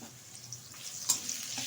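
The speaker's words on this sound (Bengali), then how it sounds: "আলুটা একটু ভালোভাবে ভেজে নেব" Peeled potato pieces cut into long strips sizzle in hot oil in a pan, a quiet continuous hiss with a sharper crackle and spatter near the middle, no talking.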